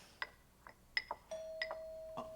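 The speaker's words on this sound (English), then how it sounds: "Oh, doorbell." A doorbell rings indoors with several short bright chimes, the last one leaving a sustained ringing tone, quiet and fairly close.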